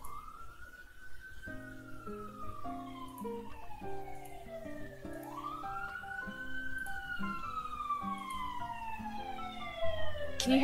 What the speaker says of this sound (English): Can you hear the siren in the background?